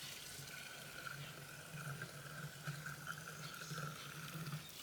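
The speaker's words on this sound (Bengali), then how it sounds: "এই যে রস পড়তেছে" Fresh date palm sap pours steadily into a clay pot outdoors, a continuous trickling, splashing stream heard close and alone.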